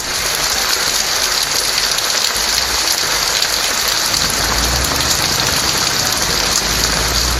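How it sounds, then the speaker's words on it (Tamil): Steady, dense rain pours down across Chennai's suburbs. The hiss of the downpour is loud and unbroken throughout, with a faint low engine rumble underneath. "பரவலாக மழை பெய்தது"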